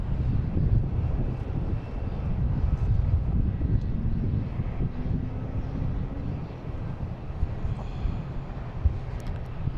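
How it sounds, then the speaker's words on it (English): A JetBlue Airbus A321 bound for San Diego takes off at Boston Logan, a loud, steady, broadband jet roar that holds throughout with some wind buffeting and no voices. "JetBlue heading to San Diego. An A321."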